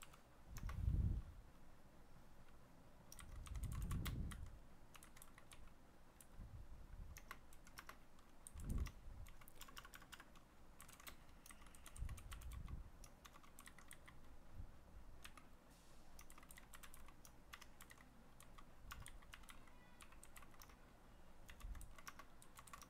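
Java code typed on a computer keyboard, scattered quiet key clicks with occasional heavier thumps, irregular bursts and pauses, close up and faint against a low background hum, no talking.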